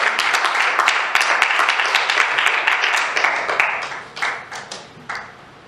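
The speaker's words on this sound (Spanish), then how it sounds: "Aplauda al Señor en esta tarde." A church congregation applauds, many hands clapping at close range in a steady, even round that thins into a few scattered claps at the end.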